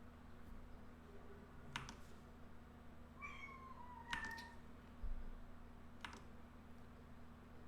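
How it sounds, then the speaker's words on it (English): A cat meows a couple of times indoors beside a computer, short rising mews heard faintly over steady keyboard typing and clicks and a low electrical hum. "This punk ass cat."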